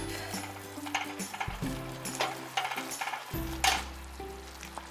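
Ramen noodles are broken up in a pan of barbecue chicken broth, making repeated scraping and clinking strokes with a faint sizzle underneath, close and steady, with no voices.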